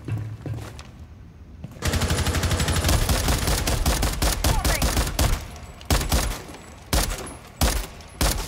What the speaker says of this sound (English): They're shooting out of this window at me.